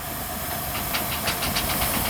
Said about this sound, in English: We've got a steam lorry coming around.